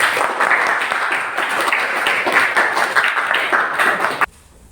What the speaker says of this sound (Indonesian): Tepuk tangan untuk sang juara.